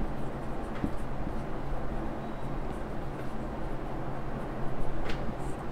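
Text being written out by hand during a Bangla-language HSC ICT lesson: a continuous soft scratching with a few small taps over a steady low room hum, with no talking.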